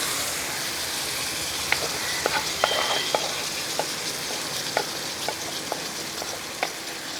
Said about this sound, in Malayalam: നമ്മൾ റെഡിയാക്കി വെച്ചിരിക്കുന്ന ചെമ്മീനും ചക്കക്കുരു എല്ലാം കൂടെ ഇങ്ങോട്ട് ഇട്ട് കൊടുക്കുക